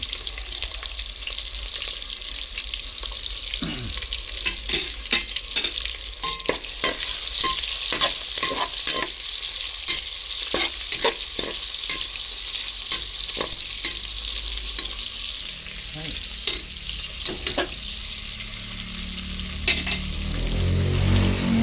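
Onions fry in a pan, a continuous hiss of sizzling broken by repeated scraping and clinking strokes of a utensil stirring them, close and steady, no talk.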